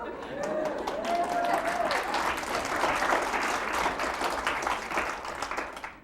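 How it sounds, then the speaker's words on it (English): Audience at a talk bursting into cheering and applause, a steady wash of clapping with whoops and a voice rising over it, fairly loud and sustained before tapering off. "I want you all to burst into spontaneous cheering and applause"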